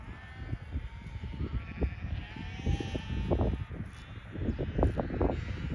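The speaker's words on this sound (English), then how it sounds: "watching hundreds of sheep go across the road with the castle in the background" Hundreds of sheep bleat in a busy, overlapping chorus as the flock crosses a road in Normandy near Mont Saint-Michel, with calls near and far over a steady rustle of hooves and wind.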